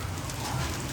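Hail and wind-driven heavy rain fall over crops in Dehradun, making a steady, dense, close patter that never lets up.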